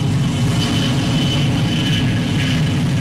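A Russian firefighting aircraft flying over a wildfire in Kahramanmaraş, a loud continuous engine roar and drone holding steady throughout.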